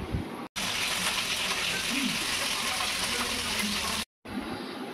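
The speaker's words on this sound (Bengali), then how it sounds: "এবার ওই আলু ভাজার তেলেই টমেটোগুলো দিয়ে হালকা ভেজে নেব" Tomatoes fry in oil left over from frying potatoes, giving a steady bright sizzling hiss that starts and stops abruptly, with a few soft bubbling pops underneath.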